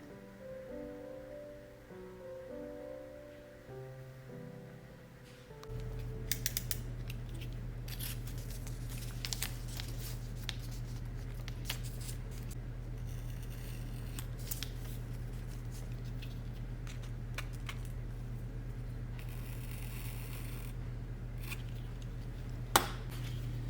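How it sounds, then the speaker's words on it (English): Paper is handled and prepped on a linocut printing registration board, with crisp rustles, slides and taps over a constant low electrical hum, close by and without speech. "This is me prepping the paper in the registration board."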